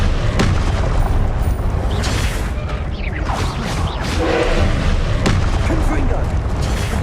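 Repeated Confringo fire spell explosions in the video game Hogwarts Legacy, loud booming blasts over continuous combat noise, with a voice talking throughout.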